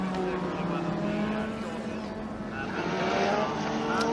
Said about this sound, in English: as the cars go away around the back of the circuit